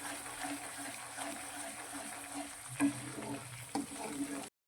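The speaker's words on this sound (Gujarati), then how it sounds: "અને 1 મિનિટ માટે બધું જ સારી રીતે સાંતળીશું." Spice masala sizzling and being stirred in a pan with a little added water while cooking a valor and eggplant curry, a continuous close frying hiss with a couple of spoon scrapes.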